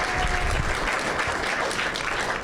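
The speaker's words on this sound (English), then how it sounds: "let's give Dr. Arcela Nunez a great round of applause" A summit audience gives a round of applause, steady dense clapping from many hands that holds at an even level for the whole stretch, moderately loud in a large room, with no voices on top.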